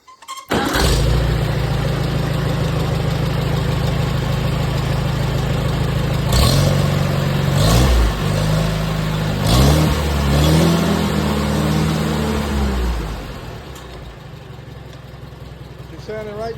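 An IH Farmall 230 tractor engine, running after a governor repair, starts up and settles into a steady, loud idle with a few brief revs in the middle before easing back down.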